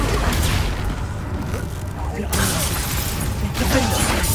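Spell blasts from Expulso and Confringo in the Hogwarts Legacy video game, a dense run of booming, crackling explosive bursts with a sharp swell midway and another near the end, set against a continuous busy game backdrop.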